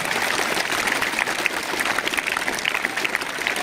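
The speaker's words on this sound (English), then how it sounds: "Put our hands together for a huge round of applause." A steady, dense burst of applause from a crowd at a school investiture ceremony, loud and sustained throughout with no pauses.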